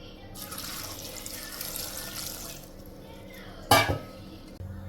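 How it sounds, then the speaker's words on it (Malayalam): Water is poured over jackfruit seeds, raw mango and drumsticks in a pressure cooker, a close splashing rush for a few seconds, then a single loud metallic clank of pot or lid. "ഏകദേശം ഇത് മുങ്ങിക്കിടക്കുന്ന രീതിയിൽ നമുക്ക് വെള്ളം ഒഴിച്ച് കൊടുക്കണം"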